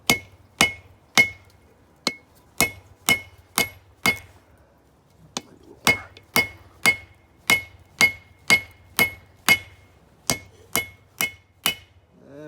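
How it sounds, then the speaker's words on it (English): Hammer blows on an anvil while forging wolf jaw tongs, a close, loud series of about twenty sharp ringing metallic strikes at a steady, slightly uneven rhythm with no talking. "coming over the anvil, half blows, about there."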